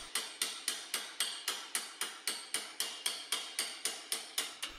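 Steady, evenly spaced strikes of a planishing hammer on sheet metal over an anvil, about three per second, sharp metallic clanks with short ringing decay, close and alone.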